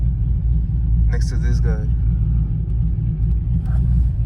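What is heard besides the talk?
car engine rumbling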